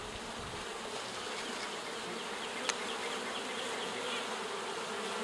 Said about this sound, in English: There's still some bees coming out, emerging.